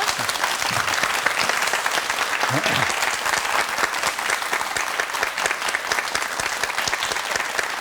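Dense, sustained applause from a large television studio audience, steady and loud throughout, with a few faint voices underneath.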